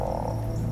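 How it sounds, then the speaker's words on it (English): A frog croaks in the puzzle video game Antichamber, a loud, close, low rattling call that fills the short moment on its own without any speech. "Frog noises."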